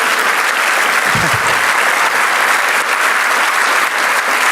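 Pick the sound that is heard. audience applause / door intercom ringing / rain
audience applause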